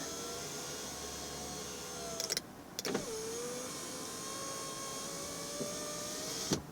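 An Audi rear electric window regulator motor whines steadily, pausing briefly twice with clicks before running on, close and alone.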